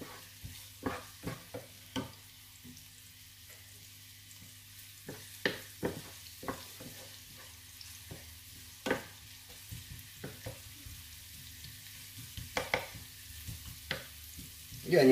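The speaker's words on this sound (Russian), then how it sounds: "Поджарим лучок до золотистого цвета." Onion fries in a pan to a golden colour, with a low continuous sizzle broken by scattered clicks and scrapes of stirring, close and moderately quiet, with no talking.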